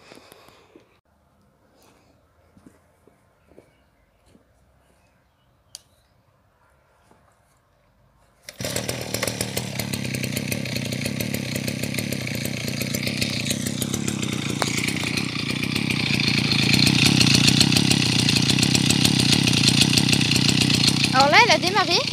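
A petrol brush cutter used for trimming borders starts up after a quiet stretch with faint clicks, then runs steadily at a loud, close idle that rises slightly toward the end.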